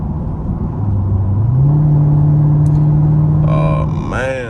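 A straight-piped Dodge Durango cruises along a highway, its loud, deep exhaust drone climbing in pitch and then holding steady, with a brief rising whine and rattling bursts near the end.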